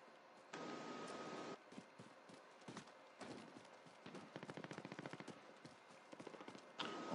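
Automatic gunfire in the Call of Duty: Warzone battle royale, with bursts of rapid shots and scattered single cracks that come and go, some at mid-distance and some nearer, mixed with short bursts of noise.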